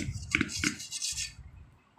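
A knife is run around the inside of a vanilla sponge cake tin. It gives a couple of short metallic scrapes and clinks, then a softer rubbing scrape that fades out, close and fairly quiet.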